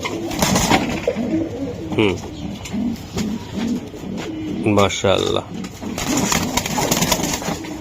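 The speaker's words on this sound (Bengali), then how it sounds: "ভাই একদম পিওর অরিজিনাল দেখাই দিলাম এই যে আরেকটা কবুতর" Racing pigeons cooing up close, two distinct rolling coos standing out over ongoing conversational voices in a bird seller's space.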